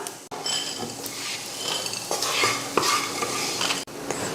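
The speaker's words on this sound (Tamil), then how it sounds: "ரெண்டு கிராம்பு மூணு துண்டு பட்டை இப்போ இதை நல்லா வறுத்துடலாம்" Whole spices including cloves, cinnamon bark and masala dry-roast in a pan for a Tamil country chicken curry, with steady scraping stirs and light sizzling plus occasional metallic clinks of a spoon against the pan.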